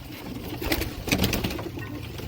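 A Kamangar pigeon on a rooftop coos close by, its soft throaty calls rising in a couple of louder swells over faint background noise.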